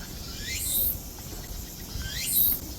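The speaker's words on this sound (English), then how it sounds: "Those are cicadas" Cicadas calling outdoors in Tokyo: two rising, buzzing chirps about a second and a half apart over a steady low background hum, moderately loud and not close.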